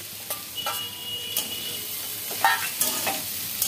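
Spices and fried peanuts stirred in a pan while cooking for singara, a soft sizzle underneath with occasional scraping and clinking of a utensil against the pan, close and fairly quiet.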